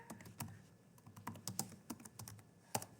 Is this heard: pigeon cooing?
no